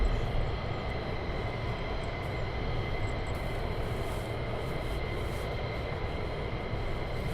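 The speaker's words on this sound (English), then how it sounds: "I can see an F-35 taxiing out" An F-35 fighter jet taxis out at RAF Lakenheath, heard from a distance as a steady, broad, unbroken jet-engine roar with no pauses.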